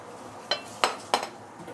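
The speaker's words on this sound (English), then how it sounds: "give it a few stir and it is done" A spoon scrapes and clinks three times against a pot of pork ribs stewed with salted black beans, chili and thickened sauce, with distinct, evenly spaced strokes over a quiet background.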